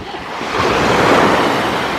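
Ocean surf washes onto a beach in a broad, steady roar that swells slightly midway, close and loud with no voices.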